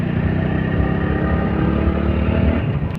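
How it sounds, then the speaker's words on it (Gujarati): A motorcycle rides slowly over a rough, broken single-lane road, its mid-pitched engine running as a steady, continuous drone close by for the whole stretch, with no talk over it. "એટલે બાઇક ધીમું ચલાવવાનું છે"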